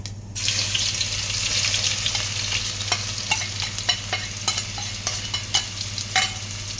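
Crushed ginger and garlic dropped into hot oil with fennel seeds for a vegetable chicken curry, a steady loud sizzle with a low hum beneath and intermittent stirring scrapes and clicks, no talking.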